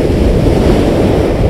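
Steady, loud rush of Mediterranean surf with waves washing in continuously, mixed with wind buffeting the microphone; no voices.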